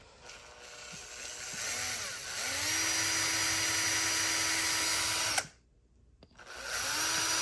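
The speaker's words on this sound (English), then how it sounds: "we're going to have to drill it out with a number 32. So we will drill this out real quick." A power drill with a number 32 bit bores into a small model boat's rudder, whining steadily as it spins up, then briefly stopping before starting again.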